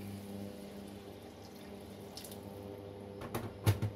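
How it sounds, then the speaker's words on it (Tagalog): Water is poured into a cooking pot of Filipino chicken adobo with potatoes, making a soft, steady splash and trickle at close range that ends in a few louder sloshes. "Tapos, lalagyan natin ng tubig."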